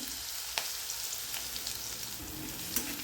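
Green chillies, garlic, mustard seeds and cumin frying in hot oil for a cabbage dish, producing a soft steady sizzle with a couple of sharp utensil clicks and faint crackles, close and quiet, no speech.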